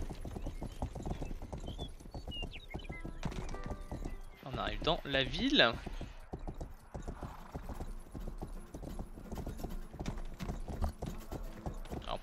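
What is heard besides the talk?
horse hooves clip-clopping in video game Rustler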